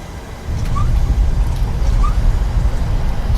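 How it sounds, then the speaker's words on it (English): A low cabin rumble in a Boeing 737-700 in a flight simulator swells suddenly and holds louder and rougher as speed brakes extend into the airflow, with two faint soft chimes. "Speed brakes up, you heard the sound."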